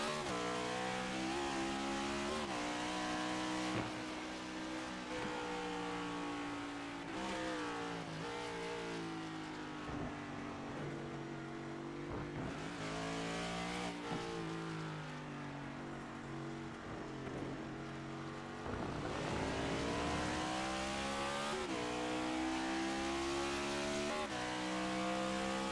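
Race cars in a racing video game lap Sebring, engines droning and revving with rising and falling pitch as gears change, several cars audible together in a steady, loud stream of engine noise.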